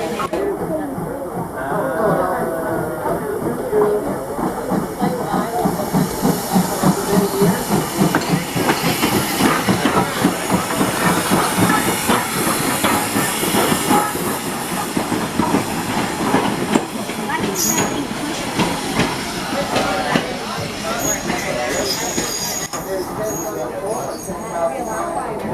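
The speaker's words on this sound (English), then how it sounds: "So very shortly, engine 475 will be passing by the high side of the train." Steam locomotive engine 475, built in 1906, passes close alongside a train, giving a loud, continuous rush of hissing steam and rumbling rail noise with clickety-clack that stays steady throughout, and voices can be heard among the noise.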